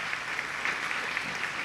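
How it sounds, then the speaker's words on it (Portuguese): A church congregation claps together at an anniversary service, a steady, dense wash of applause from a large crowd that holds evenly throughout. "Eu queria que você aplaudisse essa comunidade,"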